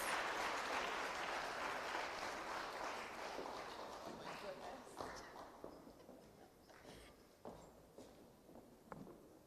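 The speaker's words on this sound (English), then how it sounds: "a resounding round of applause" Audience at a Caribbean judicial conference breaks into loud, dense applause that gradually thins into scattered individual claps.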